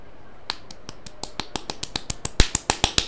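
A rapid series of about seventeen sharp two-finger claps, each a crisp snap, speeding up slightly and growing louder toward the end, heard alone without speech.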